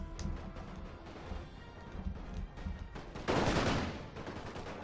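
Musket volleys crackle in the Napoleon Total War strategy game, with the Great War mod: a dense, ragged fusillade of overlapping gunshots building to a loud burst near the end, with no talking.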